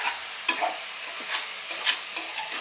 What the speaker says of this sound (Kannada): ಮಧ್ಯದಲ್ಲಿ ತಿರುಗಿಸ್ಕೊಂಡು ಫ್ರೈ ಮಾಡ್ಕೊಳ್ತಾ ಇದ್ದೀನಿ.